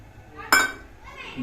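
A lid set onto a pot of chicken curry with one sharp metallic clink, followed by faint kitchen background.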